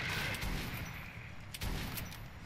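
Double-barrel shotgun shots ring out in Metro 2033, two loud, close blasts spaced about a second apart, each with a sharp crack and a quick decay.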